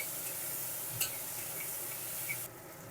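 Ginger paste, green chilli paste and tomato frying in a pan for a vegetarian potato and pointed gourd curry, a soft continuous sizzle with a couple of faint utensil taps.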